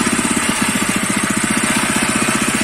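A Kaan 26S tiller's small engine running close by, a steady fast rhythmic chugging thump that continues evenly for the whole short stretch without speech.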